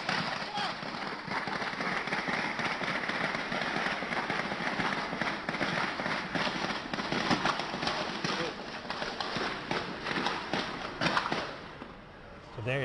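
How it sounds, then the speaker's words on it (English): A rapid series of sharp cracks and pops of gunfire in Watertown, Massachusetts, at night during a police standoff, rings out over a dense, noisy background for most of the stretch. "This is that gunshots that rang out in Watertown this evening."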